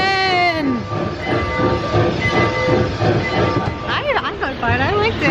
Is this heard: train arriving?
yes